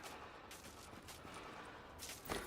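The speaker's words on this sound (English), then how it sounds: "I am actively getting shot through the ground" Gunfire in The Division during PC play, a continuous low rumbling barrage of distant shots with a sharper burst near the end, no voices.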